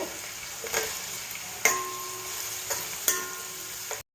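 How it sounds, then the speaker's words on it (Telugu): Onions and green chilies fry in hot oil for a country chicken curry, a steady close sizzle broken by several sharp spatula scrapes and stirs against the pan. "వాటిని లైట్ బ్రౌన్ కలర్ వచ్చే వరకు వేయించుకుందాము."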